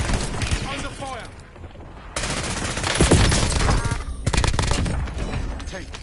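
Gunfire in the Call of Duty video game: dense, loud bursts of rapid automatic fire and fusillades go on almost without a break, with game voices heard under the shooting.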